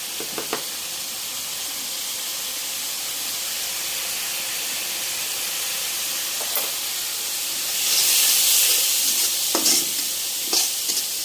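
Chili and cumin spice masala is stirred in a hot pan, giving a steady close sizzle and hiss with scattered scraping strokes and a louder burst of steam toward the end.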